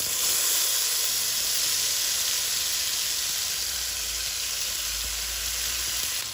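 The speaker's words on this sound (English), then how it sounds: "And we cook the paste." Spice paste fries loudly in vegetable oil with bay leaf and bruised lemongrass for Indonesian semur ayam, a steady, close, crackling sizzle that holds an even level throughout with no talk over it.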